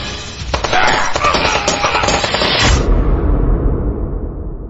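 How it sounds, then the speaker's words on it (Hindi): Staged gunfire sound effect in a dramatized account of the 26/11 Mumbai terror attack, a dense burst of sharp cracks and booms for about three seconds that gives way to a low rumbling tail, with no talk. "पर तभी पेड़ों के पीछे छिपे अब्दुल ने उन पर फायरिंग शुरू कर दी"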